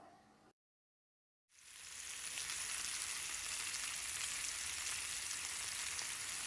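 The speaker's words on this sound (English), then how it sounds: "Make sure that your heat is high, so you don't have a boiling ribs, but searing ribs." Ribs searing over high heat in a cast iron pan, a steady loud sizzle and crackle of fat that starts abruptly after a moment of silence and continues unbroken.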